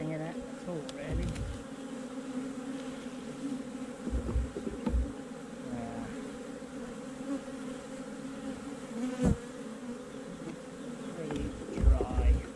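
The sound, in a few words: honeybees buzzing around an opened hive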